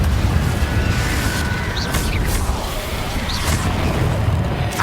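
Confringo blasting curse from Hogwarts Legacy bursts in loud booming explosions, with a couple of sharp cracking blasts and crackling debris over a rumbling, noisy background.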